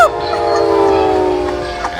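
A train pulls into a station platform, with a loud sustained horn-like tone and rumbling carriage noise that swells and holds steady over two seconds.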